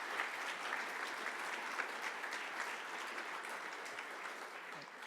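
An audience at a scientific workshop plenary session applauding after a talk, dense continuous clapping from a crowd that holds steady for several seconds and eases slightly at the end.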